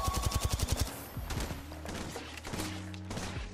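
Rapid automatic gunfire in the battle royale shooter Apex Legends, a quick burst of about a dozen sharp shots up front, then scattered distant shots and game sounds.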